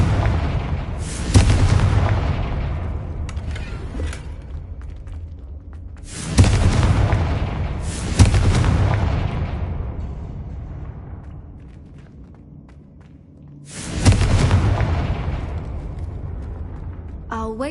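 Fire-spell explosions in Hogwarts Legacy: three loud, deep booms spaced several seconds apart, each decaying into a long rumble, with softer game sounds between them.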